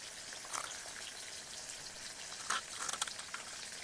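Small pond fish frying in a pan give a faint, steady crackling sizzle, with a few brighter spitting bursts and no voices.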